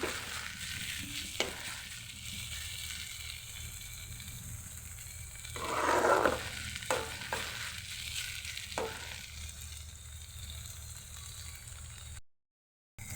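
Okra frying in a pan for a home-style bhaji, a steady close sizzle with brief stirring bursts around the middle, then a short silent gap near the end.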